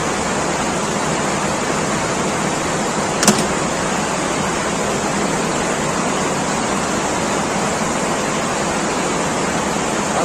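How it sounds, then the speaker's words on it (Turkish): Steady broadband rush of a stream flowing close by an outdoor cağ kebab cooking spot, continuous and fairly loud throughout, with one brief sharp click partway through. "Arkamızda şu anda muhteşem bir dere geçiyor."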